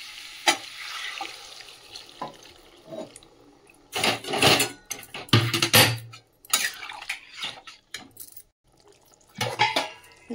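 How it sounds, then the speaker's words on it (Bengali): Hot water poured into a cauliflower and potato curry frying with spices in a pan, bursting into loud sizzles between stretches of stirring, scraping and pan clatter, with no talk. "এবারে গরম জলটা দিয়ে দেবো।"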